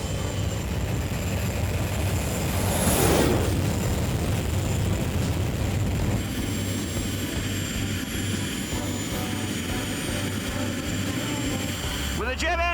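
The jet engine of a jet-powered motorcycle runs with a loud, continuous roar and whine, close by, with a sharp rising whoosh partway through and someone talking over it.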